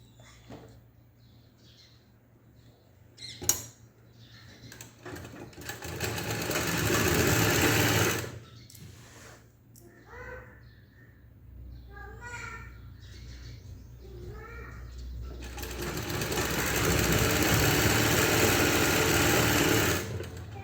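A sewing machine stitches the neck part of a blouse in several runs, close and steady, with short pauses, faint clicks and handling sounds between bursts.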